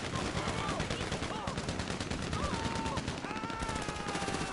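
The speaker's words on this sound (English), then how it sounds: "This also gives us a chance to actually use the tactical SMG." Gunfire from a tactical SMG in the GTA Online video game, dense continuous bursts of shots filling the whole stretch at steady volume, with faint game sounds layered underneath.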